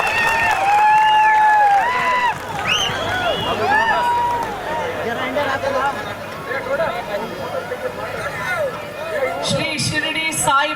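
An audience at a stage event gives applause and cheers to welcome a guest speaker, with crowd noise and clapping under amplified, echoing voices and tonal sounds, ending in a burst of louder clapping.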